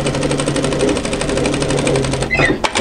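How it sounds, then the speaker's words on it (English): A sewing machine runs a second parallel line of stitching along the fold side of a knit tee, a fast steady mechanical whir that stops near the end, followed by a few handling clunks. "sew a second line of stitching parallel to the first on the fold side"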